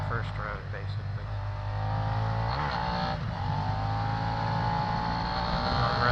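A Suzuki SV650 motorcycle with about 300 miles on it, nearly new and not fully broken in, revs up through its range on the road, a steady loud engine drone that climbs in pitch and holds high near the mic.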